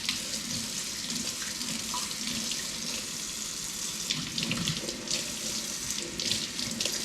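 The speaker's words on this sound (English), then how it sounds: "You gotta always clean and rinse your rice." Kitchen tap runs steadily over rice being rinsed, a continuous close splashing hiss of water with small clinks and sloshes as the grains are swirled by hand.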